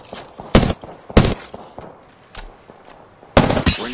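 Gunfire from the Apex Legends video game comes as a few sharp, loud shots and short bursts separated by quiet gaps, with faint background ambience between them.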